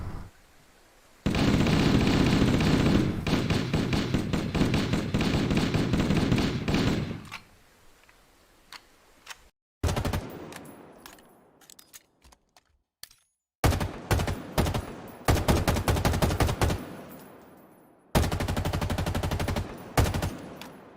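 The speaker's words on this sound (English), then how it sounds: "The M2 Browning is a heavy machine gun, but in Halo, it's the sound that's used for the assault rifle." Rapid bursts of automatic gunfire from an assault rifle in Halo whose sound effect is taken from an M2 Browning heavy machine gun, several loud sustained volleys separated by short pauses, with no talking.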